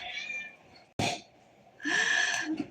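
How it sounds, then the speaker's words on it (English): A pet cat gives a short meow, then after a pause a longer, louder drawn-out meow, close by in a quiet room. "my cat meowing."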